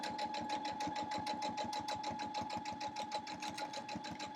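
A sewing machine stitches a quarter-inch seam on a fleece cat quilt block, its needle hammering in a fast, steady mechanical rhythm close by, with a constant motor whine underneath.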